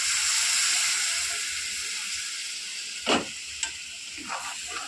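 Steady loud sizzling hiss of ground mustard paste frying in a crab curry, with a few scraping stirs near the end and no talk.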